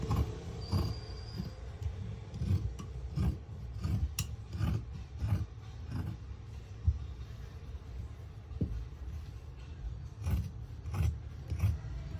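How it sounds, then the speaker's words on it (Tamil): Sharp scissors cut through five stacked layers of blouse fabric at once, giving a close, steady run of rasping, scraping snips with no voices. "கத்திரியை வச்சு அஞ்சு ப்ளவுஸையும் ஒரே நேரத்தில் கட் பண்ணியாச்சு"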